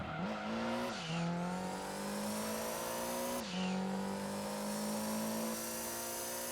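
Race car engine in Gran Turismo 2 on the Rome track, a steady high-pitched simulated motor holding revs, with two quick gear shifts that dip and climb again, loud and continuous with no talking.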